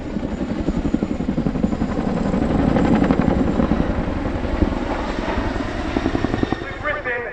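An RAF Chinook twin-rotor helicopter flying a display at the Cosford Airshow, its steady, loud rotor thump and turbine roar continuous throughout, with a voice talking faintly underneath.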